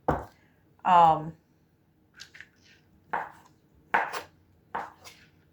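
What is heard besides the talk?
knife cutting leftover roast into smaller portions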